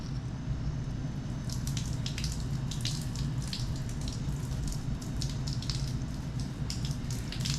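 Steady bubbling and gurgling water with a constant low rumble underneath and occasional brighter splashy bursts, as water fills a coolant hose and works past the thermostat of a 440 Six Pack engine.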